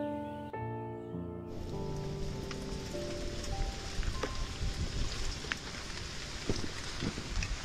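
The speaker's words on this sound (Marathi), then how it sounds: "भन्नाट व्ह्यू आहे इथे, पाऊस पडतोय वरून" Rain falls steadily in the Sahyadri hills near Sankshi fort, a dense hiss with scattered heavier drops, starting after a brief burst of music and continuing alone.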